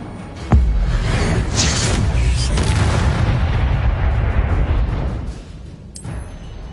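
An Incendio fire spell is cast in Hogwarts Legacy on PS4: a sharp burst opens into a sustained fiery whoosh and roar that fades away after about five seconds, ending with a small flick.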